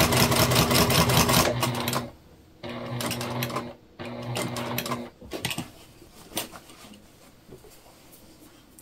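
A sewing machine runs in loud bursts of fast, even stitching on a beginner bag, stopping and starting several times before trailing off into softer handling clicks.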